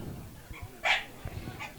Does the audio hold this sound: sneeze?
no